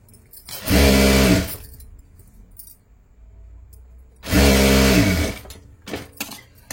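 Electric sewing machine stitching folded blouse cloth, two loud sustained whirring runs of a couple of seconds each separated by a quiet pause, close up with no talking.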